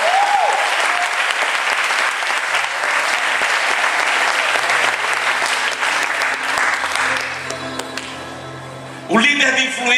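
A congress audience at a church leadership event bursts into strong, sustained applause that fills the room, with organ-like tones underneath, fading slightly before a loud renewed swell at the end.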